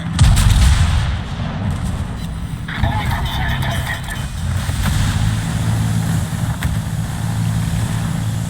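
Heavy booming salvos from a warship's gun turrets in a naval battle video game, a deep blast at the start followed by rumbling engine-like noise, with a voice talking over it.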